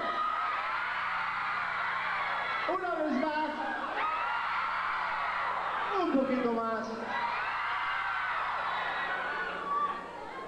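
A large audience at a 1993 ballad concert screams and cheers in a sustained roar, swelling in waves, while a voice calls out over the din.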